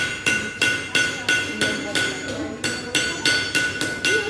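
Steady rhythmic blacksmith hammer blows ring out at a farrier's shop, about ten sharp metallic strikes at an even pace, close and clear.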